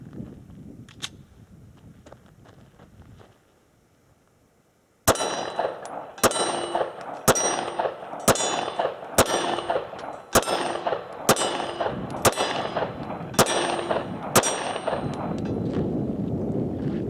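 A SIG P365 pistol empties a magazine at steel targets 16 yards away on an outdoor range: about a dozen evenly spaced shots, each followed by a bright metallic ring from the struck plate, after a quiet lead-in.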